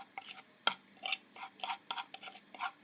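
A spice paste with ghee is stirred and scraped in a kadai, giving faint, irregular scraping and clinking strokes from a spoon against the metal pan, close by with no talking.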